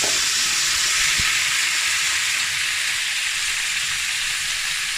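Raw nettles sizzling in local butter in a hot pan, a steady loud frying hiss with a brief clink early on, continuing alone without talk.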